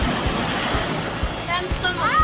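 Sea waves breaking on the shore at Florya in Istanbul, a close, loud wash of surf with wind buffeting the microphone and a few brief bird-like chirps near the end.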